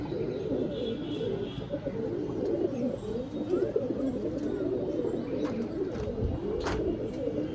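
Pigeons kept for sale as Murshidabad road-flying birds coo in a steady low murmur, with occasional faint chirps over continuous background noise.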